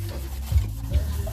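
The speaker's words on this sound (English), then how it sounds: "just sanding it down" Car parts for an EM1 K20 Type R build are sanded by hand, giving a close, steady rasping rub with a couple of slightly stronger strokes over a brief moment.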